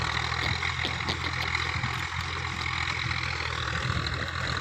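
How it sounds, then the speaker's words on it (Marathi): A tractor engine runs on a sugarcane farm, a steady low rumbling drone with some rattle, moderately loud and unbroken for the whole stretch, with no talk. "ही तर ट्रॅक्टर चाललंय ऊस घेऊन"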